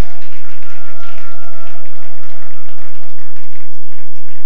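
A church congregation applauds for Jesus with loud, sustained crowd clapping that fills the room, a dense, continuous patter with no breaks, heavily saturated and close.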